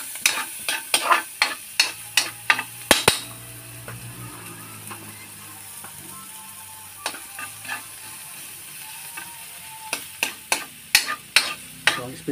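Garlic, onion and ginger tossed into a sizzling pan of buffalo meat for Ilocano balitad, with repeated sharp scraping and stirring strokes over a steady frying hiss, alone without talk.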